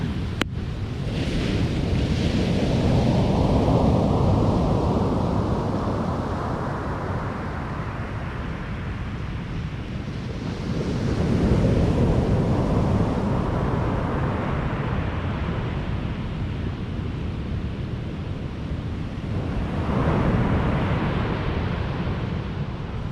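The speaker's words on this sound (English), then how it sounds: "Well, that's the surf." Sea surf near high tide at South Withernsea, with waves of about 1.5 metres or more breaking on the beach in a continuous loud roar that swells and falls every few seconds, buffeted by wind noise on the microphone.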